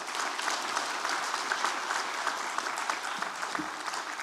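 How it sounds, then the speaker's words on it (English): Audience applause for Dr. Rizwan Razak at a talk on paper money of the princely state of Hyderabad, a dense, even round of clapping that stays fairly loud throughout. "A big round of applause to him."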